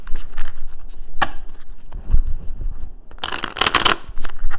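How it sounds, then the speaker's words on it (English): A deck of tarot cards being shuffled at close range, with soft riffling scrapes and taps, a sharp snap near the start and a dense burst of bright riffling toward the end. "One more shuffle."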